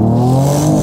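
Under a second of a 2022 Mercedes-AMG E53 inline-six launching off the line, a loud, close, steady engine roar at full throttle.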